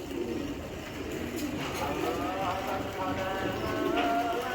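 Giribaz racing pigeons kept by a club coo softly and steadily at close range, the low burbling calls overlapping against a constant room-like background hum.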